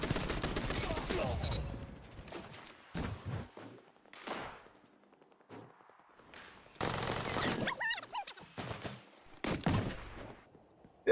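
Sharp bursts of gunfire in a shooter video game, coming in clusters with quiet gaps between them, loud and close, alongside a man's brief speech.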